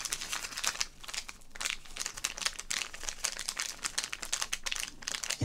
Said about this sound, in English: Does crinkle nicely.